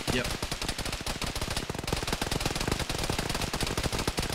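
Sustained automatic machine gun fire in the military video game ArmA, a dense, loud stream of rapid overlapping shots and bursts filling the whole stretch without pause.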